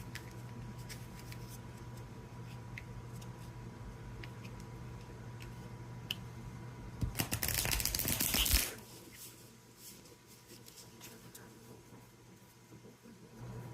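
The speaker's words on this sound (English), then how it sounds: "One more shuffle." Playing cards are shuffled in one brief riffle of about a second and a half, loud against an otherwise quiet room with a steady low hum, followed by faint handling noises.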